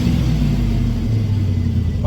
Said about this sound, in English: You hear the engine running